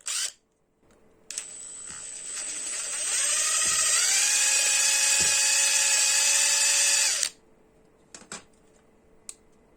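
A small rotary drill bores and widens a hole in a thick plastic part of a Tamiya 1/24 Nissan Calsonic Skyline GT-R Gr.A scale model. A close, high whine rises in pitch and holds steady for about six seconds in an otherwise quiet room.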